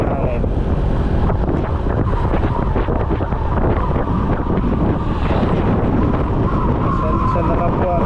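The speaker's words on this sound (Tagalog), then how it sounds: "Lakas ang hangin." Strong wind roars and buffets the microphone continuously, a loud, steady rushing noise with gusty fluctuations throughout.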